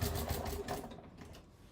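A domestic sewing machine stitches fabric slowly, bit by bit, near a bulky section. A short, fairly quiet burst of rapid mechanical stitching pulses slows and fades within two seconds.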